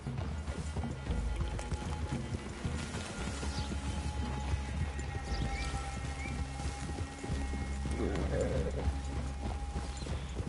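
Horses walk in the video game Red Dead Redemption II, their hooves making a steady, soft clip-clop over quiet outdoor ambience for about ten seconds, with no talk.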